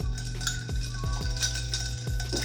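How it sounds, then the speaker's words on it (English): A metal bar spoon stirs a Chrysanthemum cocktail over ice, giving a steady run of soft clinks and swirling rattles against the mixing glass, close up, with no voices. "take our bar spoon and stir for 30 to 40 seconds"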